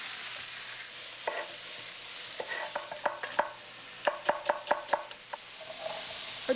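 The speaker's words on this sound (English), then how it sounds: "I'll sauté the red pepper and the red onion together" Red pepper and red onion sauté in a pan over a soft sizzle, with a run of sharp clacking stirs from a utensil striking the pan in quick bursts, close and without talk.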